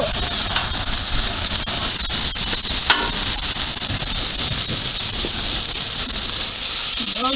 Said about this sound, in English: go ahead and get those shrimp on the grill